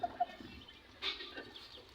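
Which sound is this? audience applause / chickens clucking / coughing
chickens clucking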